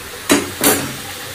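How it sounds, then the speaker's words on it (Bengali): Taro slices drop into hot oil and sizzle in two quick bursts, close and fairly loud, with the frying settling into a softer hiss afterward. "কচু ভাজাটা চাপিয়ে দিই"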